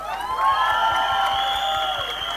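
An audience at a film trailer launch cheers and whoops together, a sustained mass of high voices filling the room at fairly steady loudness.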